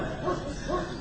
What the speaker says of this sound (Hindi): थोड़ी दूर पर गांव के कुत्ते भौंक रहे थे।